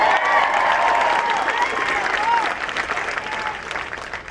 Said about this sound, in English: Y'all can give that a round of applause.